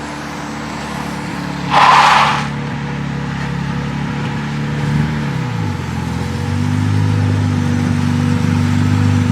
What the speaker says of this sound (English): Bo's over here testing the new brake setup on Mr. Townsley's.